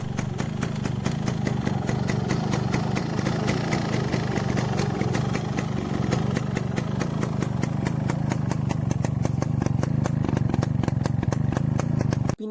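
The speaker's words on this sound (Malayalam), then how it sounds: "സ്റ്റാർട്ട് ചെയ്തതിന് ശേഷം എൻജിൻ്റെ ഭാഗത്ത് എന്തെങ്കിലും സൗണ്ട് ഉണ്ടോ എന്ന് ചെക്ക് ചെയ്യുക" A Yamaha RX motorcycle engine idling just after starting, a loud, close, steady rapid throb that continues throughout and cuts off abruptly at the very end.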